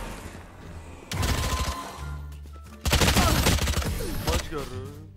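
Rapid gunfire from the video game Valorant crackles in two loud sustained bursts, close and dense, with a streamer's voice talking over the shots.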